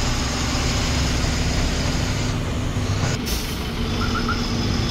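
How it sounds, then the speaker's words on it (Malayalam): At a busy truck terminal, heavy truck engines drone steadily close by, with a brief airy hiss and faint high beeps near the end over the constant rumble. "നമ്മുടെ ട്രക്ക് ടെർമിനൽ ആണ് കേട്ടോ."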